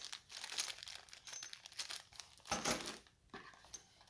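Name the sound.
bunch of bolts rattling in box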